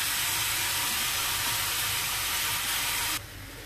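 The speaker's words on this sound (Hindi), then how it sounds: "अब इसमें ये जा रहा है तीन कटे हुए टमाटर" Three chopped tomatoes dropped into a hot pan of half-cooked capsicum for pav bhaji, setting off a loud, steady, broadband sizzle that holds evenly and then drops abruptly near the end, with no speech.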